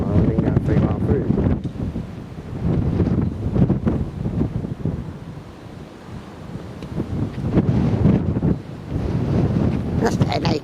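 Gusty wind buffets the microphone outdoors on a windy afternoon at Ford, producing loud, uneven low-frequency rumbling that surges and dips across the whole stretch.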